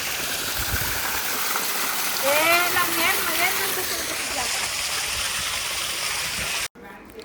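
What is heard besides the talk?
flowing stream water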